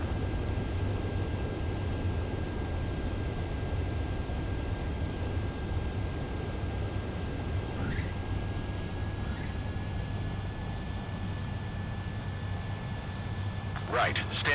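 A Macross YF-29 Durandal jet lands in Ace Combat 7, a steady, constant engine drone with a low rumble and a faint thin whine running under it from start to finish.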